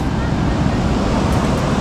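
Sea waves wash in at Patar Beach in Bolinao, Pangasinan, a loud, steady broadband surf roar with wind buffeting the microphone throughout.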